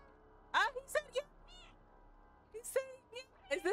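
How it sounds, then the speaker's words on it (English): The player cat meows several times in the video game Stray, short separate calls at a fairly close, moderate level over a quiet game background. "every time I meow at it"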